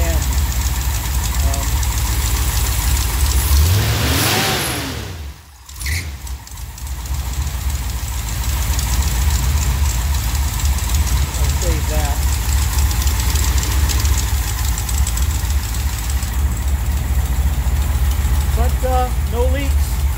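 A Mopar 505 cubic inch big block (440 stroker) idles on open pipes with small mufflers, a loud steady lumpy rumble that briefly dips and recovers midway, running close and continuous with no talk.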